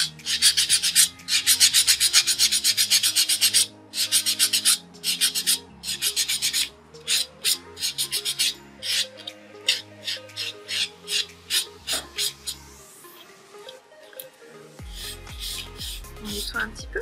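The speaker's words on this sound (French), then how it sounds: "Avec le bloc polissoir." Fine-grit buffing block rubbed back and forth over a fingernail during gel removal, a close, dry rasping in quick bursts of strokes with short pauses, ending in a low hum.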